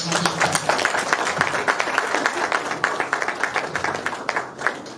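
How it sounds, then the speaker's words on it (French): Audience at a forum on financial inclusion for small businesses clapping loudly and densely, a close, busy wash of many hands that tapers slightly toward the end. "je vous demande de les applaudir"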